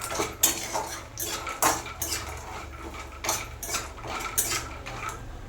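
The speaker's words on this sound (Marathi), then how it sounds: "आता बदाम भाज तूप टाकलं होतं आता भाजून घेतो" Almonds roasting in ghee in a pan, heard as a run of sharp metallic scrapes and clinks of a spoon against the pan, recurring irregularly and close up with no talking.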